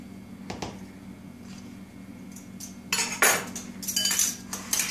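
A knife drags and scrapes across the rim of a bowl to level an ingredient, a few faint clicks at first, then louder rasping, clinking metal scrapes near the end.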